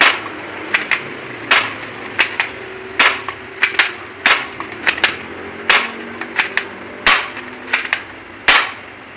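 An M790 spring airsoft gun being test fired, a series of sharp, loud single snapping shots at irregular intervals, roughly a dozen, with a faint low hum underneath.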